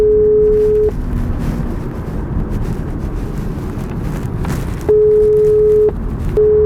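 Ringback tone of an outgoing phone call to a real estate agent in Dubai, two steady rings separated by a long pause, under a windy, rumbling background with no talking.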